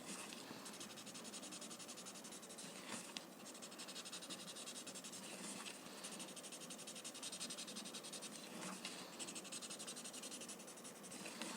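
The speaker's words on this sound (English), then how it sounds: "Then coming to the next, blend the graphite." Graphite pencil shading being blended on paper, a steady, close, soft rubbing and scratching texture that runs continuously, with no voices.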